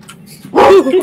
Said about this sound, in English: All the dogs are in here!